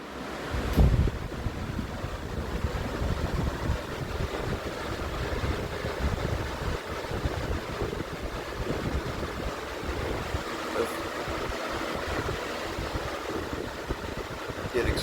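Lasko Cyclone and Wind Machine fans running together on high, a loud steady rushing whoosh of air with buffeting wind noise on the microphone, continuous throughout.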